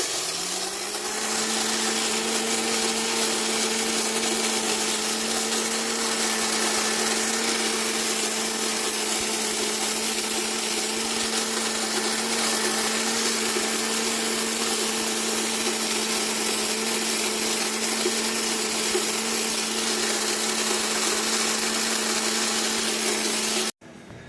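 A blender grinds dry blue corn kernels loudly and continuously for over twenty seconds, a steady high whirring drone that cuts off abruptly at the end.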